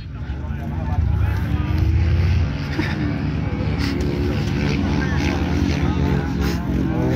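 Moped engines roar continuously at a motorbike meet-up in Jyväskylä, a dense, steady drone of revving that holds at full volume for several seconds, close by.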